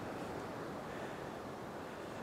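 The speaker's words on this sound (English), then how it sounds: "You can hear the waves here." Ocean surf at the shore in Vila Franca do Campo in the Azores makes a continuous broadband wash with wind rumble, steady and moderately loud, with no talk.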